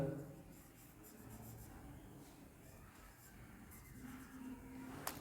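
Pen or marker writing on paper or a board during a Class 7 maths lesson on symmetry, a steady faint scratching that continues for about five seconds with low room noise and no speech.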